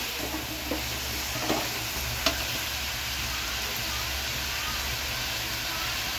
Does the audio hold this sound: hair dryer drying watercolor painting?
no